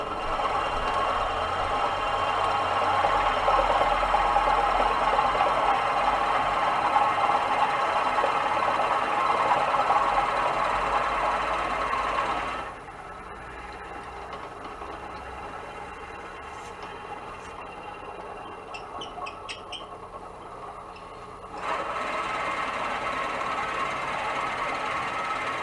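A Powermatic 3520B wood lathe turns a cherry bowl blank, giving a steady mechanical whir and hum close by. The sound drops to a quieter run partway through, then rises again near the end.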